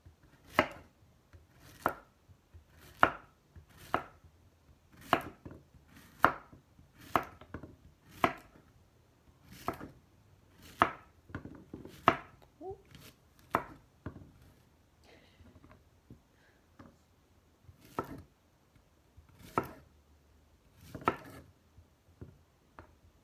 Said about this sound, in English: And then I'm just going to start cutting in thin slices.